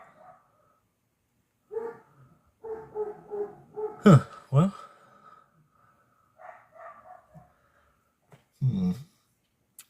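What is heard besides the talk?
dogs barking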